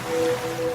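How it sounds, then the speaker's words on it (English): A wet, rhythmic dog-licking sound effect in a laundry detergent commercial, steady and close, with a whooshing quality like surf washing in and out and no voices. "Ah, no, that's the dog licking your ear."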